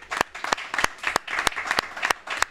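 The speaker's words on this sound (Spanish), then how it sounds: "un aplauso para Mario" At a film festival press conference, sparse audience clapping rings out near the microphone as distinct sharp claps in a loose rhythm, several hands applauding over a low background murmur.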